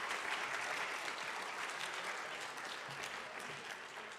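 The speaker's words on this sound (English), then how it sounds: "one more round of applause" Steady applause from an audience at a school assembly, a dense wash of clapping filling the whole stretch at moderate level before easing slightly toward the end.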